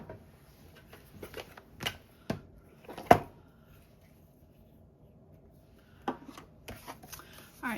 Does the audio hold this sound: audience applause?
no